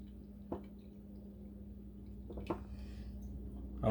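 Italian ice mixture dripping slowly through a strainer gives a few soft, sparse drips, spaced about two seconds apart, faint over a quiet low hum.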